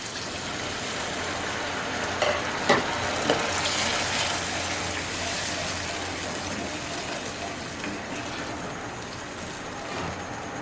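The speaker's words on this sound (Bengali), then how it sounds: "এবার দিয়ে দেব একটু জল।" Water poured into a hot frying pan of chicken cooking with soy sauce, garlic and Kashmiri chili powder sets off a loud, continuous rushing hiss that holds steady throughout, with a few small knocks early on.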